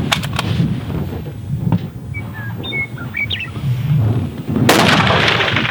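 Rifle shots at a long-range precision rifle match, NRL Hunter style outdoors. Sharp broadband cracks come near the start and one loud burst comes near the end, with birds chirping faintly and a low outdoor rumble between.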